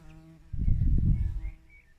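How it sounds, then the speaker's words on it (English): Bees hum close by in a summer flower garden, a low buzzing swell that rises suddenly, holds for about a second and fades, with faint birdsong in the background. "You can hear it buzzing with bees here during the summer."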